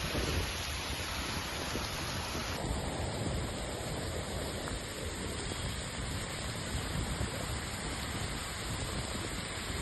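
Heavy unseasonal rain pours steadily in Kheda, Gujarat, a dense continuous wash of rainfall on streets and surfaces with a low rumble of thunder beneath, loud and unbroken throughout with no voices.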